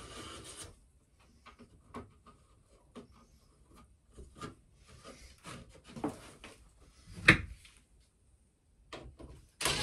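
A wall panel for the upper walls of a narrowboat is cut by hand, giving faint intermittent rasping and scraping strokes with a few louder knocks, quiet and close by.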